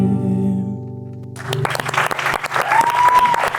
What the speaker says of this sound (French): Et on applaudit aussi Raph qui va faire tous les morceaux des chanteurs à la guitare.